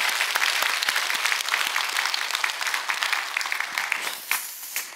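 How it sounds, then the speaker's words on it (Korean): Church congregation applauding during a Wednesday worship service, a dense, steady wash of many hands clapping that holds for several seconds and thins slightly toward the end. "여러분 크게 박수 한번 해주시기"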